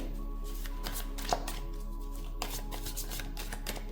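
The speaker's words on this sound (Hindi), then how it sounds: "मैं यहां से इस खूबसूरत डेक में से 3 कार्ड्स निकालूंगी।" Three tarot cards drawn from a deck make soft papery slides and flicks, quiet and close, over a steady low electrical hum, with no one speaking.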